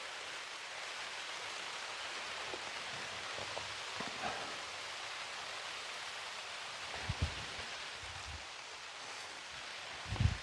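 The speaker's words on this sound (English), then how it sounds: "If you can hear, it's raining." Steady rain falls through a forest during a summer hike near a lake, a soft continuous broadband hiss with a few close drips and taps, no talking.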